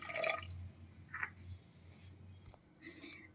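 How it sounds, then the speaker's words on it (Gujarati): Water poured into a pot of dal, heard as faint scattered drips and a short splash with a low background hum, quiet and close. "હવે આપણે એમાં પાણી એડ કરશું"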